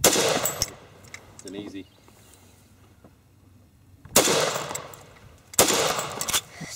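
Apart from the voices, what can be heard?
Browning 1919 machine gun firing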